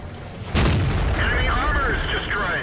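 A World of Tanks tank gun shot: one sudden heavy boom lands early, then a long rumbling tail of battle noise and whistling shell sounds under a steady game ambience.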